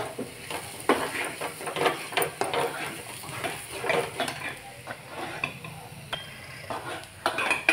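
Vegetables with chili powder are sautéed in a pan, a spatula scraping and clacking against metal in repeated strokes over a constant close sizzle.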